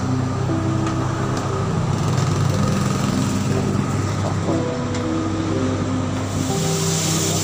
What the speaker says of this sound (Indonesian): Motor polisi militer